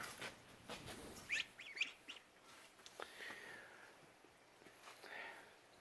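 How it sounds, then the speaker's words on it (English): Faint peeping chirps from ducklings about two and a half weeks old, a few short high calls scattered over a quiet background. "Got the baby ducks that are not so baby anymore."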